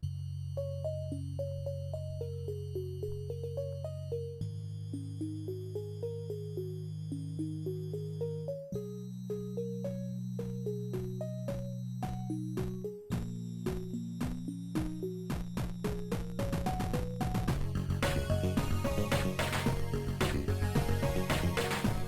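A Sonicware Liven 8bit Warps synth plays a chiptune sequence of bouncy arpeggiated square-wave notes over a sustained bass, stepping up through a buildup before a dense, louder drop with drums, with no voices.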